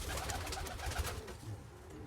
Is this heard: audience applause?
no